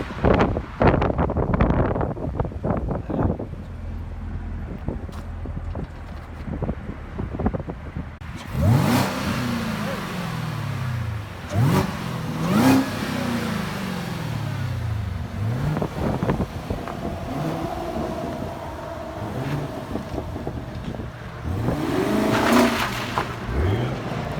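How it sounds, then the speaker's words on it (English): A supercharged 2018 Chevrolet Camaro ZL1 with stock exhaust revs repeatedly, rising and falling in several sweeping surges with a high supercharger whine, heard outdoors over wind noise and a rumbling idle. "You can hear the supercharged spool up the back."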